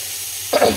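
Fish frying in a little oil for fish-oil curry: a sudden close sizzle bursts in after half a second of quiet and crackles on briefly, with no talk.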